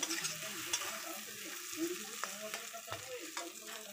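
Boiled potato frying with spices in oil for a prawn chop filling, a steady soft sizzle with occasional spatula scrapes and taps against the pan, moderately quiet and close, without talking.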